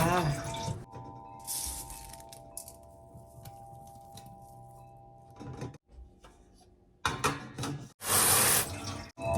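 Hot water poured into a container for sprouting mung beans at home arrives in short splashing gushes, loudest near the end, separated by quieter stretches with faint background tones and clatter.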